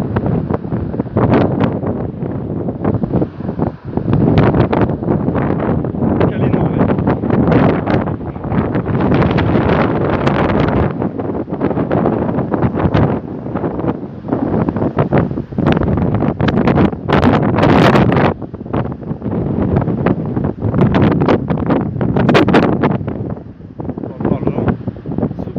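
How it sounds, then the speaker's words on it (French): Strong storm wind gusts at a Balaguère mountain site in the Pyrenees blast loudly and continuously into the microphone, surging and easing in heavy roaring waves throughout. "il y a du gros, très grosse rafale. Je ne sais pas si vous l'entendez là."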